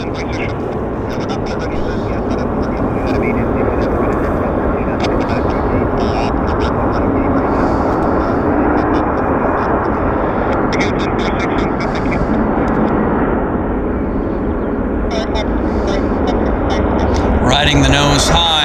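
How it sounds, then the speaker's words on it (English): Boeing 787 Dreamliner arriving at Vancouver airport after a flight from Seoul, a sustained loud jet roar filling the scene while a voice speaks over it and wind buffets the microphone near the end. "There it is. Dreamliner."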